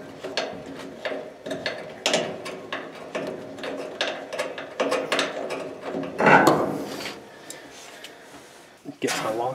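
Half-inch ratchet clicking away at a bolt on a Maytag dryer drum roller assembly, rapid repeated pawl ticks in bursts, close up, with someone talking over the work.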